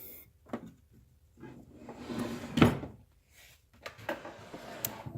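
A junk drawer in a home chemistry lab, packed with wire and tubing, is slid open and shut with soft wooden scrapes and a firmer knock near the middle, quiet and close with a few small rattles around it.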